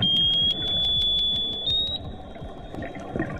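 A high, steady electronic tone rings continuously while rapid sharp clicks pulse over a low rumbling wash, loud and close.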